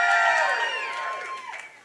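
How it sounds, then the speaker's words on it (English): At a South Carolina gubernatorial campaign launch rally, a crowd cheers and whoops with high, drawn-out shouts that rise together and then taper off and fade. "What a crowd."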